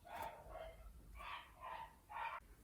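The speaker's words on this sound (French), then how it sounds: "c'est le chien des voisins." A neighbours' dog barks at a distance, four or five muffled woofs in an uneven sequence, faint and somewhat dull as if heard through a wall, with no one speaking.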